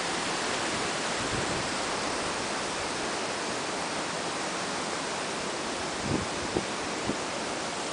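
The Salto do 13 waterfall in Santa Catarina roars as a steady broadband rush of falling water, loud and unbroken, with a few faint knocks near the end and no voices.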